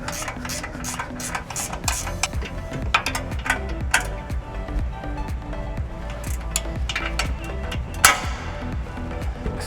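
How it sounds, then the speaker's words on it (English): A 17mm ratcheting wrench works on coilover bolts during a Bronco suspension install, giving close, rapid clicking and metallic ratchet taps in uneven bursts over a low background hum, with no talking. "We'll go ahead and use our 17mm ratcheting wrench."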